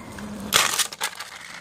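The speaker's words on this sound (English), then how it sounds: "he just smashed that car" A bike slams into a Corvette in a wrecking game, a loud crunching crash bursting in and breaking into scattered rattling debris over roughly a second before trailing off.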